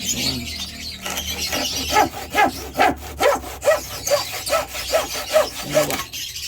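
A hand saw rasps back and forth through plywood in steady, rhythmic strokes, about a dozen close, loud pulls and pushes.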